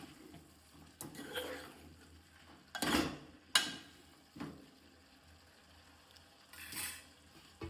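Tomatoes stirred into a cabbage and pea curry in a pot, village-style home cooking: a few sharp clanks of a spoon against the pot, with soft scraping between, fairly quiet and close.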